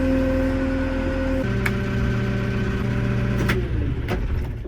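A cabover truck engine runs steadily at idle in a farm setting, a loud, constant mid-low drone with a slight shift in pitch partway through and a few faint clicks over the top; no one speaks.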